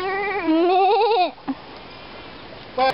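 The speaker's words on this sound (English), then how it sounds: "I'm talking to a goat." A goat on a farm lets out one long, loud wavering bleat close by. It is followed by a short faint noise and then a brief rustle near the end.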